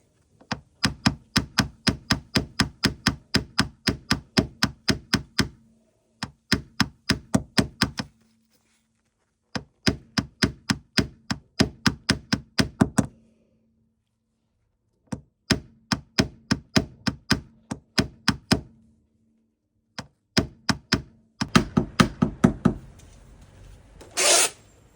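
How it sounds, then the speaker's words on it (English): Hammer and knock-down tool tapping down a paintless dent repair on a Porsche Carrera 911, heard as bursts of rapid, evenly spaced sharp taps in several runs separated by short pauses, close and clear with no talking. "hammer and knock down."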